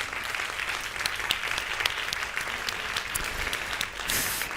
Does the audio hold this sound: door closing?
no